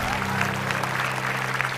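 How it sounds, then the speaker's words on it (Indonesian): Studio audience at a television talk show clapping in a lively, steady burst, with a low musical hum underneath. "Tepuk tangan dulu dong."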